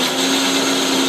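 An electric mixer grinder grinds garlic and cumin, running loud and steady with a constant motor whine and rough grinding noise, uninterrupted for the whole moment.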